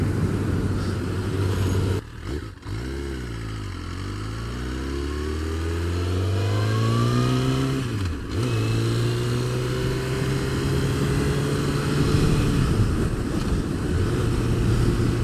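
A new motorcycle accelerates in a loud, close engine roar, rising in pitch, dropping sharply at each gear shift, then climbing again through several gears before settling into a steady drone.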